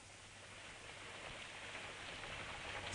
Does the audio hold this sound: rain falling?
yes